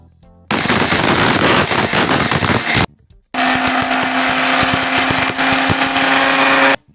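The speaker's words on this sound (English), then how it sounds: "Now all the spices are in the grinding bowl and we are ready to grind them." An electric grinder whirs through spices including cinnamon in two loud bursts, a harsh rattling buzz that cuts off briefly before restarting with a steadier, higher hum.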